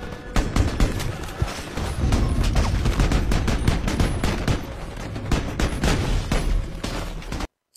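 Dramatised battle gunfire, dense rapid bursts of shots and cracks filling the scene loudly and continuously before cutting off abruptly.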